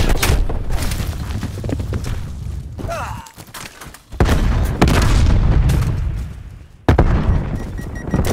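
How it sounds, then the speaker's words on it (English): Napalm strike explosions in Call of Duty Black Ops Cold War, a Hardpoint match on Satellite, break out as a run of heavy booms and rumbling blasts. A lull falls in the middle, then fresh loud bursts follow. "Enemy napalm strike incoming."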